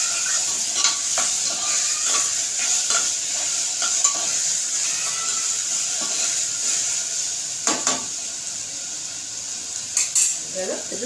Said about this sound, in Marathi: थोडीशी हळद टाकते तिला थोडासा कलर यायला तिला चांगलं तेलामध्ये परतायचे